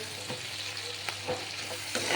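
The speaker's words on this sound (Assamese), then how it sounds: "এয়া মই কেপচিকাম আৰু পিঁয়াজ এয়া ধুনীয়াকৈ এনেকৈ ভাজি লৈছোঁ।" Capsicum and onion, seasoned with salt and turmeric, fry in a pan with a continuous sizzle and occasional soft stirring scrapes, close and alone.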